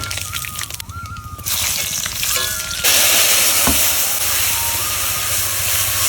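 Dry red chili and black cumin seeds hit hot oil, with a quieter stretch first and then a loud, close sizzle that jumps up and keeps hissing steadily, with scattered crackles.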